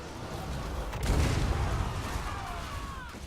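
A heavy Hell Cannon artillery shot in Total War: Warhammer 2 lands as a deep rumbling boom amid battle noise, followed by a faint whistling streak.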